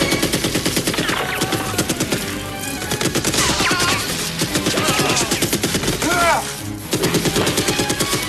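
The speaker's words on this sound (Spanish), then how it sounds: "una ametralladora que utiliza Sylvester Stallone eh, cuando ejerce de Rambo" An M60 machine gun, the weapon of the Rambo films, fires rapid sustained bursts of loud gunfire layered with a film soundtrack and shouting.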